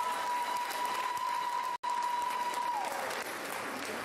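At the Holland High School graduation ceremony in Half Moon Conference Center, the audience applauds the teachers with sustained, dense clapping that fills the hall, broken by one brief cutout.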